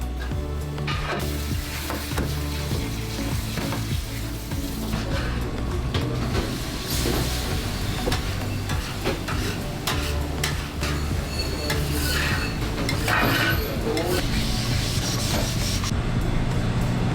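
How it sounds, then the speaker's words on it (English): Restaurant grill being scraped and cleaned after service, with steady sizzling, scraping and stirring noise running continuously and fairly loud, occasional sharper clanks rising above the hiss. "we're here cleaning the grill"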